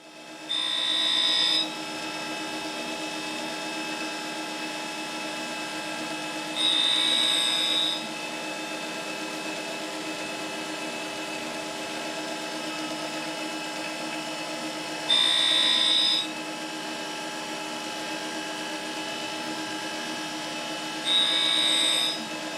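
A metal cutter grinder runs with a steady high whine and hum while grinding a tool, four louder bursts of grinding contact recurring at intervals over the constant motor drone.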